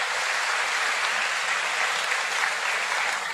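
Sustained applause from mourners at the funeral of a singer, a dense, steady wash of clapping holding at even loudness throughout.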